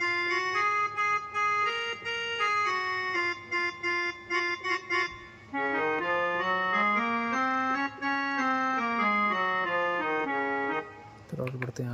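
A Yamaha PSS-F30 keyboard plays in its harmonium voice: a reedy tone with short repeated notes first, then a longer, sustained melodic phrase that rises and falls, played alone at moderate volume.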